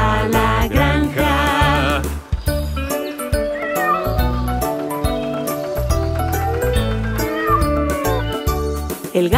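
A sung Spanish children's song with instruments, a voice imitating a cat's meow in repeated rhythmic phrases, loud and upbeat.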